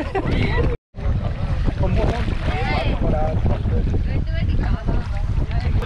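A dive boat heads out across the sea off Havelock, its engine and hull rumbling steadily under strong wind buffeting the microphone, with a brief dropout near the start and faint voices mixed in.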